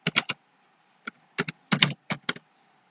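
Fingers tapping out a short entry on a computer keyboard, several crisp, close keystrokes in quick clusters separated by brief silent gaps.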